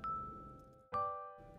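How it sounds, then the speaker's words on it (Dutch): A school bell rings with a two-tone ding-dong chime, struck twice: a bright sustained tone followed by a second strike whose ringing partials hang and fade, fairly close and clear with no talk over it. "Ding dong, ding dong, luidt de schoolbel."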